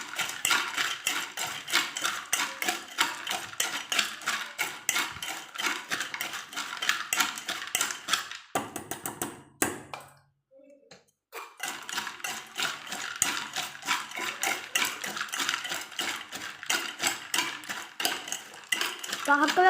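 Food is mixed in a pan with a spoon, giving repeated close metallic scraping and clinking strokes in a steady rhythm, broken by a short pause, with faint voice in the background.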